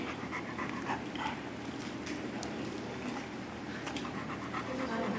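A friendly dog pants rapidly and steadily on a hot day, close by and fairly quiet, the rhythmic breaths continuing for several seconds with faint background noise.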